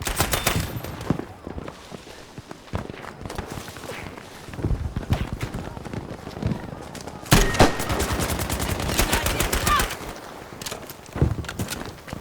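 Machine gun fire rattles in an online Battlefield V match, rapid bursts of shots repeating near and far, with a heavy sustained burst midway, while a player talks between the volleys.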